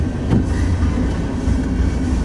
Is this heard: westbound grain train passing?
yes